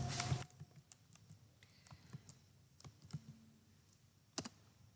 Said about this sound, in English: let's go to typing the question